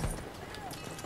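Hooves of a galloping horse in the PS4 beta of Battlefield 1 give a brief clip-clop amid game noise, with someone talking over it.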